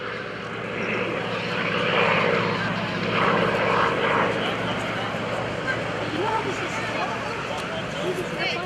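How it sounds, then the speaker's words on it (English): An F4U-5NL Corsair propeller fighter flies past at the 2011 Boston Portsmouth airshow, giving a steady, broad engine drone that rises and falls gently while an announcer talks over it. "This is an F4U F4U-5NL Corsair."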